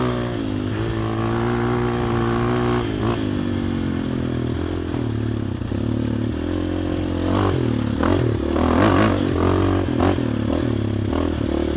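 A dirt bike engine runs steadily and loud throughout, holding a continuous idle-to-mid throttle drone with a few brief blips, close to the listener and with no one talking.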